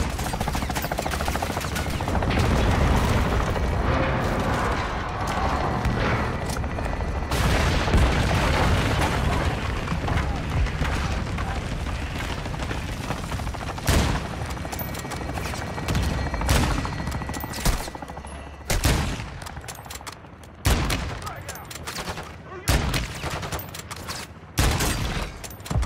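Gun run in the Modern Warfare 2 video game: dense, continuous gunfire and heavy explosions roar for most of the clip, then break into separate bursts and booms near the end.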